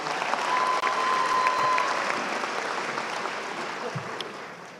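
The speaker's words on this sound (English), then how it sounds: "Give yourselves a round of applause" A large commencement crowd applauds the graduates, a dense, steady wash of clapping that fills the whole stretch at moderate loudness and eases off slightly toward the end.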